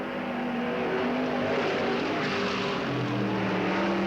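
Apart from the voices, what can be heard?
race cars on the track at Riverside Speedway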